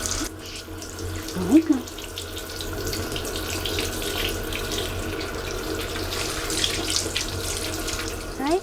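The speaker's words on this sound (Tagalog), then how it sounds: "Mainit na tubig. Lakas ng tubig." Hot water gushing strongly from a tap into a sink, a steady full-bodied rush that runs throughout, close by, with a brief spoken aside and light clatter near the start.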